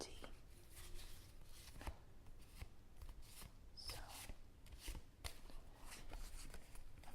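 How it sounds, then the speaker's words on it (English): Soft, repeated riffling and tapping of tarot cards being shuffled, a quiet papery patter with brief pauses, close by and faint, with a short spoken word. "I'm going to do some more shuffling"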